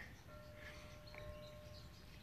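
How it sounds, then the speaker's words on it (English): A faint metallic bell buoy tone rings and sustains with soft overtones, heard from a distance over a constant background hiss at Star Island. "And you can hear the bell buoy."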